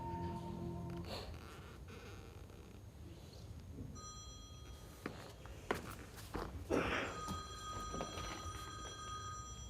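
A telephone rings a few times in a quiet indoor room, moderately close, with soft footsteps and shuffling around it and no talk.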